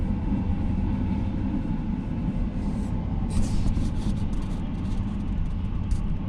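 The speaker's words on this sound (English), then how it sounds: "go drive a train across the track" A train rumbles past on the tracks, a steady heavy low roar with faint clattering and metallic squeaks near the end.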